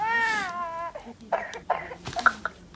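An electronic toy baby doll crying and then giving a few short, close coughs in quick succession, a high whimpering cry followed by small sputtering bursts.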